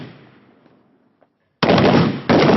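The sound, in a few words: gunfire during Garud commando reflex fire drill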